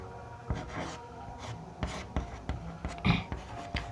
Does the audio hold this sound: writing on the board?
yes